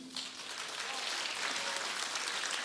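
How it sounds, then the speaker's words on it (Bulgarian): Concert audience applauding after a competition, a dense steady wash of many hands clapping throughout, moderately distant and even. "Още веднъж аплодисменти."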